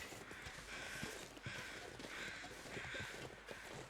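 Crows cawing in The Long Dark winter survival game, several harsh caws repeating steadily over a cold windy ambience, moderately distant, with no voice over them.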